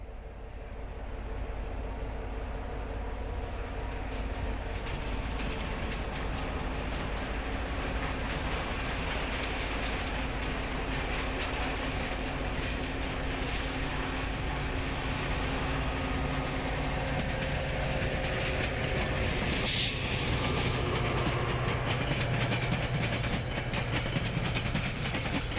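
Metra trains move through a Chicago rail yard with a steady, loud rumble and rolling clatter of wheels on rails, and a brief burst of hiss or squeal near the end.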